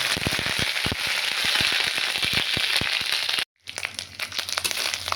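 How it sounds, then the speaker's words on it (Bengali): Ginger frying in hot oil in a pan for a Bengali vegetable curry, a dense crackling sizzle with sharp spitting pops, broken by a brief silent gap before quieter sizzling resumes. "আদা ভাজা হয়ে গেছে"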